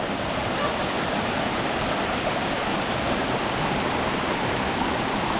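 A steady, full roar of falling water, constant and close, with no breaks or changes.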